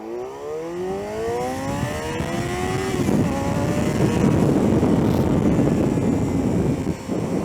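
A Yamaha FZ6 inline four-cylinder 600cc sport bike engine revs up hard toward a high-pitched scream, the rising whine sweeping upward before settling into a loud, steady roar close by.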